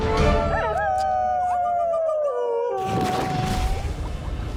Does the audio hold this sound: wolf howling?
yes